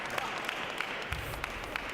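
A home crowd applauds a point at the 2019 World Table Tennis Championships mixed doubles match, with dense, sustained clapping filling the whole stretch and no voices standing out.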